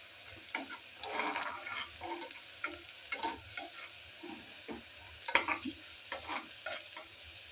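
Onion and potato masala stirred in sizzling oil for aloo paratha filling, a steady frying hiss broken by scraping spoon strokes against the pan at irregular intervals, close and moderately loud with no voices.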